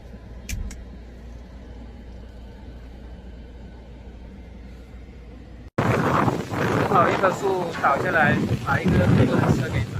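Typhoon Wutip, China's first of 2025, lashes Hainan with destructive wind: a low, steady storm rumble gives way halfway through to loud, gusting roar and wind buffeting, with voices talking over the din.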